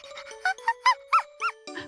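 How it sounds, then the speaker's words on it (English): A squeaky dog toy ball is squeezed repeatedly, giving a quick series of about six sharp, high-pitched squeaks over a faint steady tone, with no talk. "Would you like the squeaky ball?"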